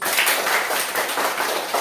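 Classroom of pupils clapping their hands together, a dense, steady patter of many claps filling the short moment at moderate loudness.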